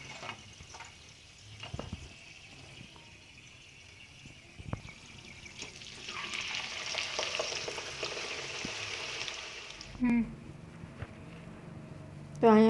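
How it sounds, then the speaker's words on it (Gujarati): Potato french fries fry in hot oil; the hiss is quiet at first, then swells into a fuller, bubbling sizzle midway, with talking and a few brief tonal beeps toward the end. "હવે આપણે વધેલી બધી જ છે તે આલુ ફ્રેન્ચ ફ્રાય હવે આપણે બધી જ આવી રીતના ફ્રાય કરી"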